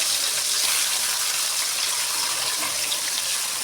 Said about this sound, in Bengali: মাছটাকে আমি ভেজে নিচ্ছি